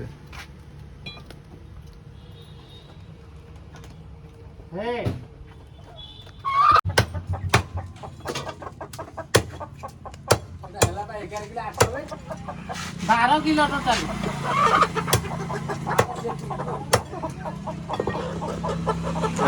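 Desi country chickens cluck and squawk in a series of sharp calls at an outdoor picnic, close by, while someone talks over them.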